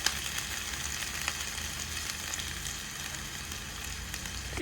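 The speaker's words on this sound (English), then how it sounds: "adding my chopped onions, which I'll stir fry for about 2 to 3 minutes" Chopped onions stir-fry in hot cooking oil, giving a steady, even sizzle with faint crackles throughout, fairly quiet and close, with no one speaking.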